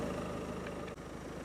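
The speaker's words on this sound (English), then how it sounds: "apologies for the engine noise" Car engine hums steadily from inside the vehicle while driving past a pair of cottages, a low continuous drone with a brief dip near the end.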